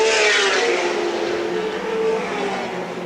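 Touring race cars roar around the steep part of Lakeside International Raceway in a 1984 championship round, a loud sustained engine drone with some tyre noise, fading slightly as the car passes.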